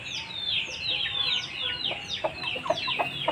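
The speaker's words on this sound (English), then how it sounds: "especially this gray, this blue chicken, the blue rooster" Gray and blue rooster with chickens, Burmese and Ganoi fighting breeds on a farm in Cianjur, West Java, Indonesia, giving steady overlapping clucks and short calls throughout, close and fairly loud.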